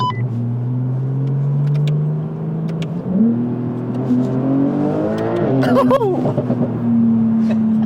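A car passing on the left accelerates hard, its engine pitch climbing steadily and then surging with a loud roar, heard from inside a 1000 hp Porsche 911 Turbo S over its own steady engine drone.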